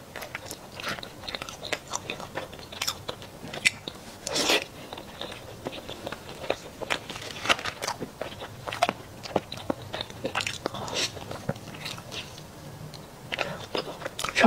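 Chocolate cut fresh from a whole bar is bitten and chewed close up, with soft crunches and wet mastication sounds recurring irregularly throughout, no talking.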